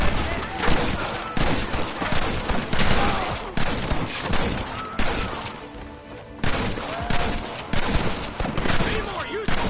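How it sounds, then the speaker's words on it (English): Gatling gun blazing in the video game Red Dead Redemption, a loud, dense fusillade of rapid bursts that barely lets up across the whole stretch, with scattered shouting voices mixed in under the din. "You man the Gatling gun, Marston!"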